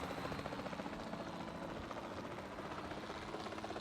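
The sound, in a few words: helicopter in a Jurassic Park video game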